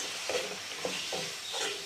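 Tomatoes and red chili fry in a pan for dal fry while a spoon stirs them, a constant soft sizzle broken by four short scraping strokes at an even pace, no voices.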